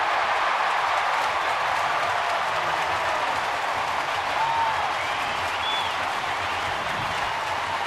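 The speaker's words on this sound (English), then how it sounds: "One swing of the bat gets them all clapping and yelling" A baseball stadium crowd claps and yells after a hit, producing a loud, dense, continuous roar of applause and cheering that holds steady for the whole stretch.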